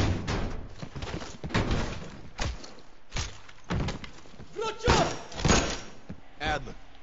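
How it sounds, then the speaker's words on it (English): A door swings open during a Vietnam-era mission in Call of Duty: Black Ops Cold War, with a run of heavy wooden thuds and slamming knocks spread across the clip, mixed in with voices. "Bell. Open the door."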